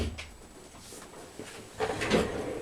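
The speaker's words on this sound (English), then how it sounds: "Let me shut my door." A door is shut in a home craft room, a quiet wooden knock and latch click near the end, preceded by soft rustling and movement.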